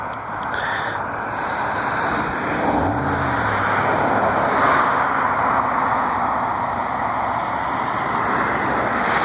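A blue Southwest airliner arrives at BWI airport, heard as a broad distant roar of jet noise that swells and lingers steadily, with a faint low passing vehicle mixed in.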